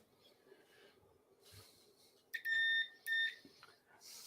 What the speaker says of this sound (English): I hear a beep.